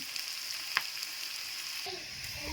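Onions sizzle and fry steadily in a pan for a chicken curry, a continuous close hiss with a sharp clink partway through and a few soft stirring knocks near the end.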